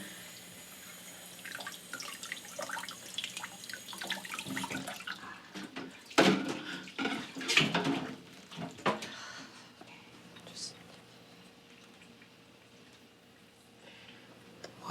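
Water from a tap runs into a sink, a steady rushing flow that swells and splashes louder midway, then thins to a quieter trickle.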